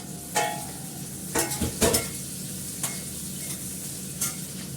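Ginger and garlic paste frying in hot oil after dried red chilies, a steady soft sizzle broken by several sharp spatula scrapes and stirs at close range.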